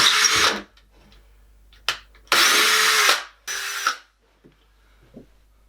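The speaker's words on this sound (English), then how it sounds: "I'm going to change to a bigger drill bit now." A power drill with a bigger drill bit than 5mm, drilling into a wall, whirs in several short bursts, starting and stopping with brief pauses between, loud and close with no talking.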